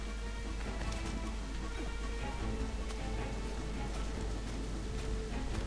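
Steady rain falls throughout a scene in Assassin's Creed IV Freedom Cry, a constant close hiss of drops striking surfaces at an even level, with no voice over it.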